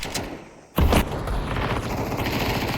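Counter-Strike 2 gunfire comes as a sudden loud burst of shots after a quieter lead-in, followed by a sustained rattle and game noise.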